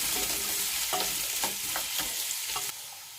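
Potato chunks and softened onion sizzle loudly in a cast-iron pot as a spoon stirs them, with a few scraping knocks against the pot over a constant hiss, up close and with no talking.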